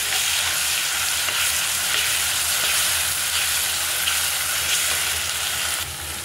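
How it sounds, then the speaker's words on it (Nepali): Masala of ground garlic, onion and green chilli frying in oil in a pan for an egg and potato curry, giving a loud, steady, continuous sizzle throughout with no talking. "2-4 मिनट मसला भुटौँ।"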